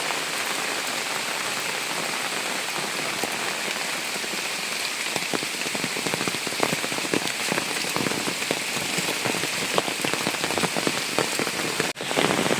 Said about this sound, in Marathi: पाऊस भर गच्च पाऊस पडतोय